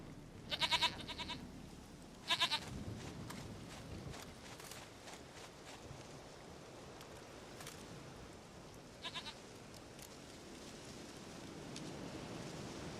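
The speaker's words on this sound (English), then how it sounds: "Goat of mine, dearest, sweetest goat." A goat in the Witcher 3 video game bleats in several short, bright bursts spaced across the scene, fairly quiet over a soft ambient wash of wind or rain and faint footsteps.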